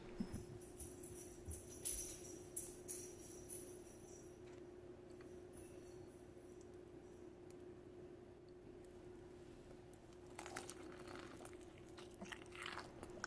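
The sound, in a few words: biting into a crunchy homemade egg roll dipped in duck sauce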